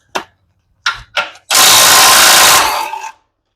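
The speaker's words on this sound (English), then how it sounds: "this little DeWalt gun is pretty darn good, all things considered. It's amazingly strong for its size." A small DeWalt impact gun removing transmission bolts from a 1995 Camaro Z28: three short bursts, then a loud sustained hammering rattle for about a second and a half, close and alone.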